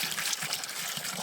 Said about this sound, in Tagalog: Nga na kakusog atong source sa tubig guys.